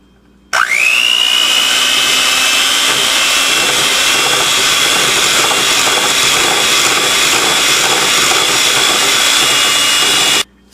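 An electric kitchen mixer switches on abruptly and whirs at a steady, loud, high whine while creaming chocolate frosting ingredients, running continuously for about ten seconds before cutting off.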